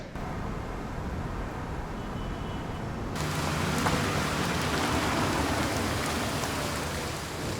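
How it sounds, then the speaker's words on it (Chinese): Steady rain falls outdoors in a dense hiss that suddenly grows louder and fuller partway through, continuing unbroken to the end with no voices. "下雨了，你们带伞了吗？"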